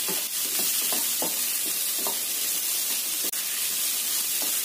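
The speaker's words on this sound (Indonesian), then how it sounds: "Kemudian kita tambahkan cabai merah dan hijaunya. Tumis sampai cabainya layu." Red and green chilies sautéing in a hot pan give a steady close sizzle and hiss, with soft stirring scrapes now and then.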